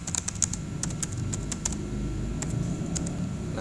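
Fingers tap a computer keyboard in quick, irregular bursts of crisp clicks while a document is typed in a word processor, with no talking.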